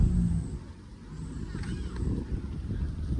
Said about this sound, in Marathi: बस बस थांबली ती बघ